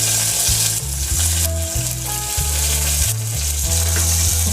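Onions frying in a small amount of oil, a loud, steady, close sizzle with crackles and a pulsing low rumble throughout.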